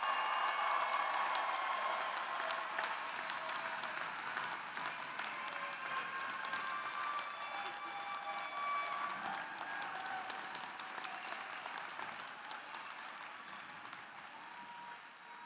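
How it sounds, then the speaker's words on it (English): An audience at a university commencement applauds new master's graduates with sustained, dense clapping and a few cheers, holding steady for about fifteen seconds before easing slightly at the end. "let's give our new masters a well-deserved round of applause"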